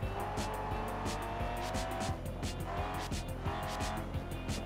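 Audi race car cornering on the Laguna Seca track in a racing video game, a loud sustained engine drone with rapid rhythmic ticking and a tire squeal.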